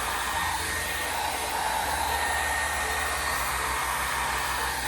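A hot air styling brush hums steadily on a low setting, a constant whooshing blower noise with no pauses or voices.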